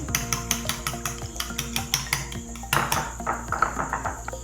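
Rapid rhythmic clinking of a utensil against a bowl as eggs with turmeric are whisked, steady repeated taps close by with no talking.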